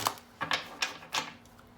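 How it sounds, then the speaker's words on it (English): Tarot cards shuffled by hand during a reading: four or five quick papery riffling bursts in a row, close and fairly quiet, with no voices over them. "I'm going to shuffle one more time."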